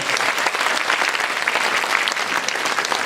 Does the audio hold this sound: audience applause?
yes